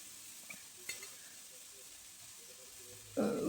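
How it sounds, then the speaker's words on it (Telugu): Amaranth greens fry dry in a pan with no water left, a faint low sizzle with a few light scrapes, then a louder burst of crackling hiss near the end. "ఇప్పుడు కొంచెం కూడా నీరు లేకుండా బాగా వేగిపోయింది"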